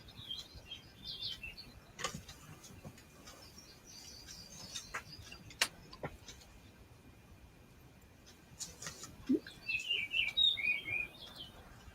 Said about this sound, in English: Oh, I hear the birds.